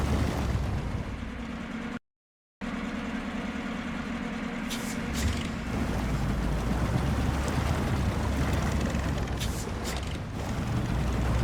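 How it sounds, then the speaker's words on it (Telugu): A tractor engine in the Snowrunner video game drones steadily as the vehicle labours through mud, a loud low rumble that is cut off briefly near the start and then runs on unbroken. "మనం ఈరోజు ఈ ట్రాక్టర్ని ఇక్కడ నుంచి తీసుకుపోయి ఆ ట్రాక్టర్ని బయటకు లాక్కొస్తున్నాం"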